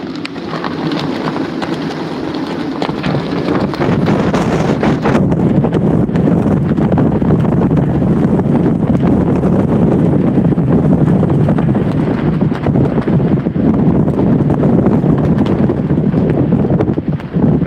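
Roaring tropical storm wind buffets a sailboat moored on a mooring ball, a loud, sustained rush with gusting surges and rattling, heavily overloading the microphone, with no talk.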